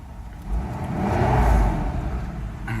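A Mercedes 600SL engine climbs from a 700 RPM idle into a steady rev and holds there with a smooth, rising whir, then eases back down, heard up close with no talking.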